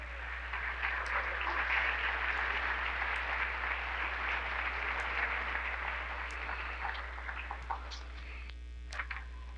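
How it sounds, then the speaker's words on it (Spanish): A church congregation applauds in a long, steady burst of clapping over a constant low mains hum. "Denle un aplauso al Señor, pues, fuerte ese aplauso."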